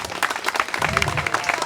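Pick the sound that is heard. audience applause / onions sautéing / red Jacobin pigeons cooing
audience applause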